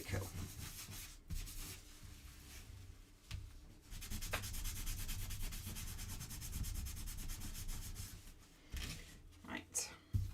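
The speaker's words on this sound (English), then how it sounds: "with the Pebble gilding wax, it's a furniture grade, and it means you can buff it" Furniture-grade Pebble gilding wax is buffed by hand on a mixed-media craft piece, a faint continuous rubbing and scuffing that runs for several seconds with short pauses and a few soft knocks near the end.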